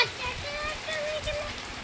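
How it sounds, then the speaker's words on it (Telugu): Heavy rain falls steadily, a soft continuous hiss with no distinct drops, fairly quiet and even throughout. "ఫుల్ వర్షం స్టార్ట్ అయిపోయింది."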